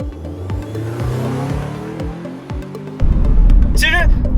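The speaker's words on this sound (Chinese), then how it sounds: "我旁边有个车，我们就直接超它，好吧？ 来，3、2、1，地板油。" A Chery Fengyun A8 in sport mode accelerates at full throttle to overtake another car, its engine note climbing in pitch with each gear, then a sudden burst of loud wind and road roar.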